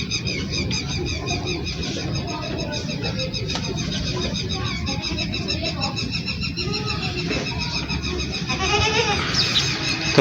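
Goats and young kids kept on a rooftop bleat repeatedly at irregular intervals over a steady farmyard background. Faint voices and birds are also present.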